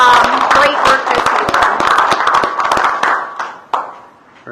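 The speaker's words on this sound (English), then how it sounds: "So these girls, let's give them a round of applause" A roomful of people claps loudly for a school girls' A-team after a winning season, a dense burst of hand claps that thins out into a few scattered claps at the end.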